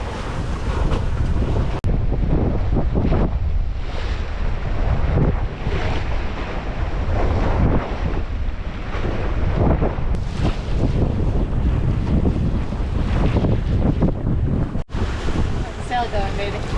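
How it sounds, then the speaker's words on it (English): Strong wind buffets the microphone as a sailboat heels and surges along in a fresh breeze, with waves and water rushing past the hull in a constant loud roar and a brief dropout near the end. "A lot of wind, more than I would like, but a little sporty"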